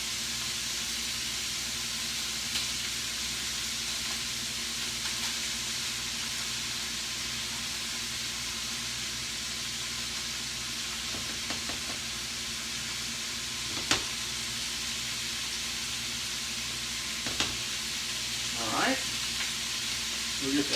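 A sloppy joe casserole mixture with tomato paste sizzles steadily in a pan, a constant hiss broken by a few faint scrapes and clinks of stirring.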